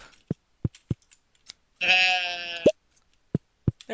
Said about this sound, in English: And now for the sheep.